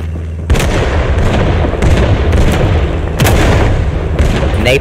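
Napalm strike explosions in the Vietnam War shooter Rising Storm 2: Vietnam, a loud, close series of booming blasts and crackling bursts rolling one after another over continuous battle noise.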